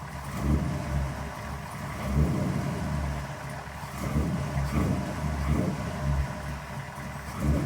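A 1928 hot rod roadster's flathead engine idles with a loping, uneven rumble, pulsing in a steady rhythm close by.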